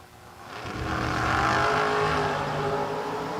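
Drag race cars, a Chevrolet Monte Carlo and a Ford Mustang, at a drag strip; engines swell from a low idle into a loud, sustained roar that peaks mid-clip and stays strong.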